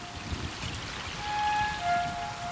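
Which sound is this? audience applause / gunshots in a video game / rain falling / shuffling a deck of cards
rain falling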